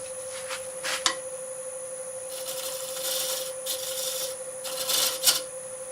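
Sandpaper smoothing a madrone wood natural-edge bowl spinning on a lathe, a steady rubbing rasp over a constant motor whine, swelling in soft repeated passes with a couple of sharp ticks, close and moderate.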